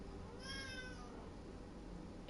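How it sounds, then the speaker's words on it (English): A pet cat gives a single drawn-out meow, faint and slightly distant, over a low steady indoor hum. "That was my cat."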